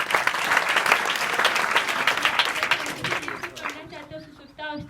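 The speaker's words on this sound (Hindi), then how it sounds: "जोरदार ताली बजाओ" A classroom audience at a coaching centre claps loudly for a student, dense steady applause that thins out and fades near the end.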